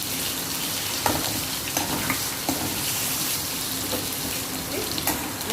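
Paneer cubes stir-fried in a hot pan give a steady close sizzle with scattered scraping knocks of the spatula against the pan.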